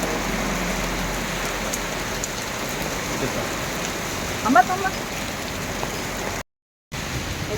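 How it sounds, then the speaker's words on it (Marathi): Heavy rain pours outside in Pune, India, in a dense, continuous hiss, with a brief gap of silence near the end. "तुम्ही पाहू शकता बाहेर एवढा मुसळधार पाऊस सुरू झालेला आहे"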